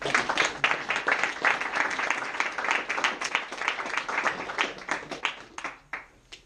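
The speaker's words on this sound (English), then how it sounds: "So a big round of applause for Jason Bryant." A room of people at a wrestling mentor event applauds, scattered clapping that holds steady then tapers off near the end.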